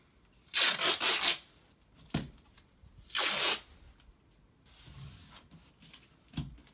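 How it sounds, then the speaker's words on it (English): Tape pulled from a roll and torn near a wall before hanging car-part wall art: two loud ripping pulls, then a short tear and softer rubbing as strips are pressed down, close and without talk. "So I'm gonna tape up the wall, just a small little portion of the wall"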